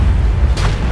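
A tank gun in a World of Tanks-style game, fired from an E-25 at a KV-3, lets out one loud, close boom with a short rumbling tail.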